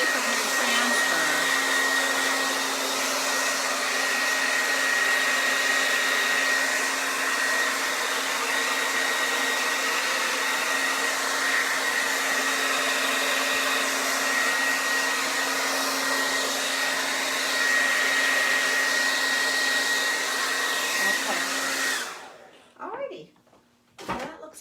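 A heat gun blows steadily to melt embossing powder on a craft transfer, a loud, even whir with a faint high whine that runs unbroken for over twenty seconds, then cuts off, followed by a few brief clicks.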